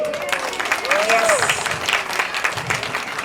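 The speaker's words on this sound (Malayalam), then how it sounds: "ഒരു കൈയടി." Applause from an audience at a children's Onam 2024 celebration follows a dance performance, steady and fairly close, with a voice calling out over the clapping.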